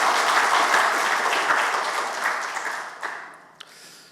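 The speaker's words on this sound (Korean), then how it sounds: "우리 정말 힘차게 박수 한번 쳐드려요" Loud church congregation applause, dense and sustained, tapering off toward the end with a few last scattered claps.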